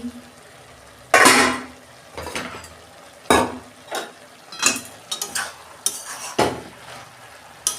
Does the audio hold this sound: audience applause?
no